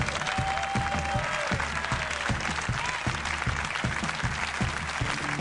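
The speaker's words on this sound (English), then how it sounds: "It's very cool of you to applaud for me." Comedy club audience applauding a stand-up comedian as he takes the stage, a steady, dense wash of clapping from a sizable crowd that holds evenly throughout with no voices over it.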